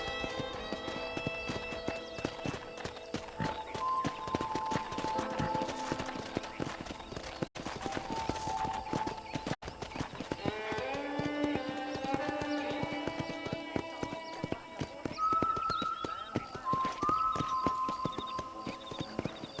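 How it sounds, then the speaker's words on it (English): Steady clip-clop of horse hooves at a walking pace under game music in Red Dead Redemption, with an occasional whinny; close and continuous. "let's see if you can still ride a horse"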